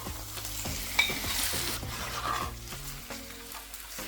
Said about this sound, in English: I'll let it brown with the lid on to help retain the moisture and cook more evenly.